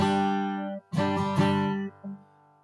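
A single guitar chord, a G5 voicing, rings out, then is strummed again twice more, ringing and sustaining before fading, played alone without talk.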